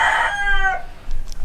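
A rooster crows loudly and close in a barn, one drawn-out call that trails off, followed by softer clucking and scuffling from chickens near a cow at milking time.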